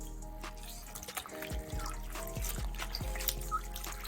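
Tap water runs steadily over sea moss being rinsed clean, a continuous trickle and splash with soft intermittent drips and sloshes throughout, close and fairly quiet.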